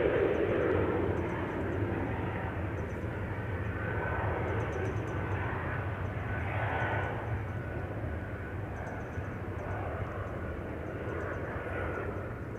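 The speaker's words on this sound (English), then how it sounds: "KLM, Nippon, E2 Embraer taking off from 18 left" KLM Embraer E2 jet taking off from runway 18 left at Amsterdam Schiphol, a steady, moderately distant engine roar holding level throughout with no talk over it.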